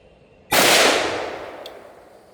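A single loud gunshot fired at an outdoor shooting range cracks sharply and close, then rolls off in a long decaying echo over about two seconds.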